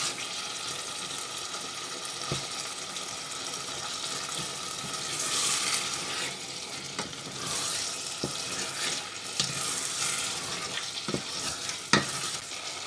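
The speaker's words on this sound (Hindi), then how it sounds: "तो 2 मिनट के लिए इनको भूनेंगे ताकि जो मसाला है अच्छी तरह इनको भी मसाले में भून लें" Potatoes and chickpeas frying in masala in a pan, a steady sizzle with the scrape and clink of a spoon stirring through it, a few sharp taps along the way.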